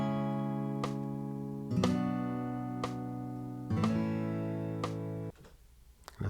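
Guitar strumming a 4-3-2-1 chord progression, four sustained chords changing at steady intervals with a faint metronome click ticking underneath, played quietly and alone.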